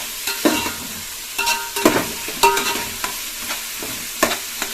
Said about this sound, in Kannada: ಒಂದು 5 ನಿಮಿಷಗಳ ಕಾಲ ನೀಟಾಗಿ ಫ್ರೈ ಮಾಡ್ಕೊತಾ ಇದ್ದೀನಿ